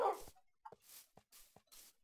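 A dog in the video game Minecraft gives a handful of short, clipped barks and yips. They come at an uneven pace with quiet gaps between them, clear and close, with no talking over them.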